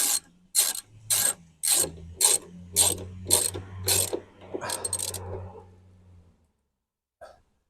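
Ratchet tightening the door mirror bolts on a 2022 Vauxhall Movano: about nine loud, evenly spaced bursts of rapid clicking over a low hum, then quiet with one faint click near the end.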